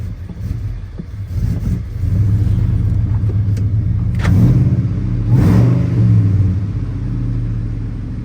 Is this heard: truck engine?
yes